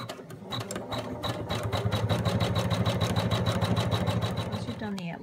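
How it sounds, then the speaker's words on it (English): An embroidery machine stitching the outline of a fabric mouse shape in a hoop, giving a steady, fast mechanical chatter of repeated needle strokes at close range that runs without a break and ends abruptly. "you can then put your hoop back onto your embroidery machine and embroider your next step"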